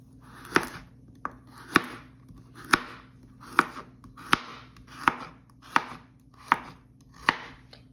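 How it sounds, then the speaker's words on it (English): A knife chops carrots on a cutting board in about nine firm, evenly spaced strokes, each a crisp close thud against a quiet background. "I'm going to chop up some carrots."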